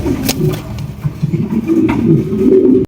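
Young, big-sized pigeons coo steadily and up close, a continuous low rolling murmur of several birds at once, with no voices.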